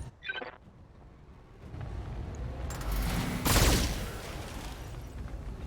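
Turret gunfire in the BattleTech video game: a dense, rumbling fusillade of rapid shots that builds after a faint opening and peaks in a loud burst before trailing into sustained battle noise, without talk.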